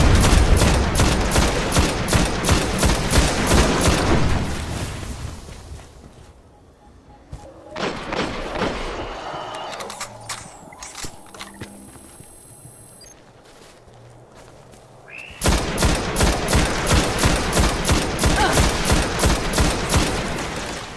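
Rapid bursts of automatic weapon fire in the video game Destiny, loud and dense at the start and again at the end, with a quieter stretch of scattered shots and thuds in between.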